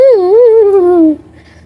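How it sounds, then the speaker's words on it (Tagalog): A mother cat lets out a single complaining meow, drawn out for about a second with a wavering pitch that slides downward before cutting off into quiet. "Nagreklamo si Mami Summer"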